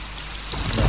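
Rain falls in the survival video game SCUM, a dense, steady hiss of heavy downpour with a low rumble building toward the end, loud and close, with no talking.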